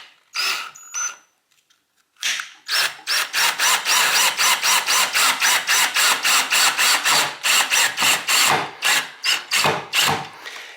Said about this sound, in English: now I got my little bit to drive in the screw,